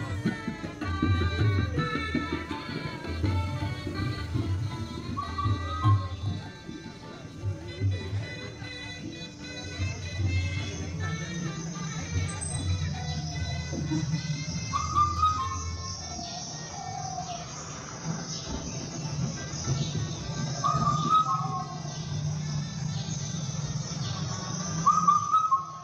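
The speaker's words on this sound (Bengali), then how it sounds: "ও পাখির ডাক দেখো," Birds calling outdoors at a Kartik Puja gathering in Bansberia, with bright repeated chirps and whistles over a continuous low hum and murmur of background noise.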